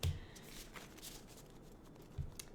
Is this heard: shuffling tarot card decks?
yes